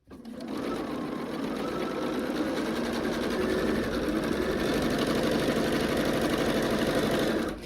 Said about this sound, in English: I'm going to sew the two sides on first